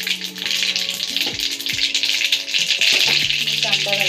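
Mustard seeds and cumin sizzling in hot oil, a loud, close crackling hiss with quick spattering pops, overlaid by sustained tonal background sounds.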